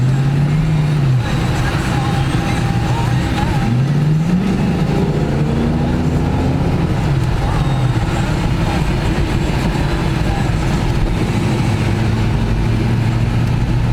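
A 1991 Ford Mustang Fox body with a 5.0 engine driving: a loud, close, continuous rumble with the engine note climbing and falling through several gear changes over a constant road roar.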